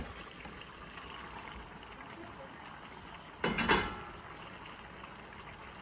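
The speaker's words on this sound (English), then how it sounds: "We're just going to pour them" Drained cooked noodles poured from a pot into bolognese sauce, a short wet splashing burst of about half a second over steady kitchen background noise.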